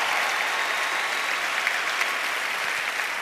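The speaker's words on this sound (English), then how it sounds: "just by a quick round of applause, who has heard work smart," Audience applause at the opening ceremony of the SkillsUSA 2013 national conference, a large hall full of steady, dense clapping that holds evenly for the whole span with no talking over it.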